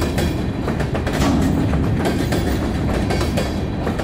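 An NYSW freight train rolls past hauling a string of shiny, apparently new Cardella gondola cars, a steady loud rumble with clickety-clack wheel beats over the rails, close by and with no talking.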